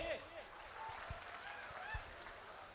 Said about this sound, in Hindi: तो एक बार जोरदार तालियां हो जाए हमारा अमेजिंग परफॉर्मेंस के लिए